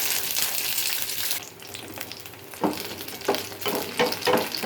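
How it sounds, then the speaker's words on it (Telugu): Green chillies frying in oil in a home kitchen, a steady broadband sizzle that drops off after a moment, then returns with several sharp bursts of crackling and spattering as the pan is stirred, with no talk. "కొంచెం నూనె పోసుకొని పచ్చిమిర్చి అవి వేయించుకుందాము"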